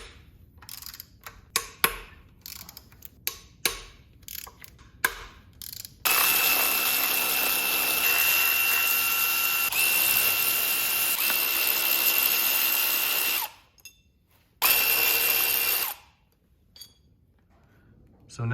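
Tools work on the alternator brackets of a 1991 Honda CRX Si engine: first scattered light clicks and taps, then a long, loud, continuous whirring power-tool burst, a short gap, and a second shorter burst before quiet returns.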